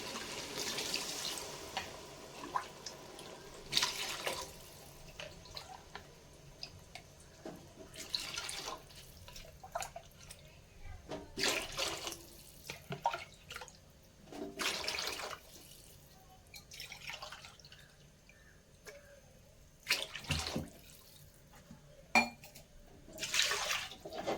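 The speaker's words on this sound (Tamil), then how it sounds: "இப்போ வந்து எட்டு டம்ளர் தண்ணி ஊற்றிக்கலாம்" Water poured from tumblers into a pot for mutton dum biryani, eight tumblers for four of rice, arriving in separate splashing pours with pauses between them, close and clear with no voices.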